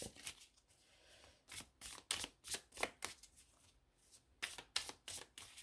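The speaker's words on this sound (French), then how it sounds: "Ce paquet-là, je vais le remélanger vite fait." A deck of game cards is quickly reshuffled by hand, close up, in a rapid series of crisp riffling and snapping bursts with brief gaps between them and no talking.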